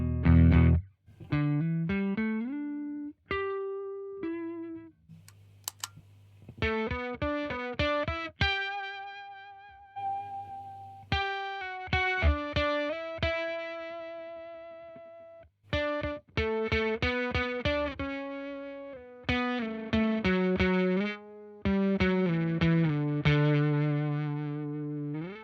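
Electric guitar played clean through a Fredric Effects Grumbly Wolf octave-up fuzz pedal, on the neck pickup, plucked notes and short riffs ringing with a bright, buzzy upper octave, loud and alone with brief gaps between phrases.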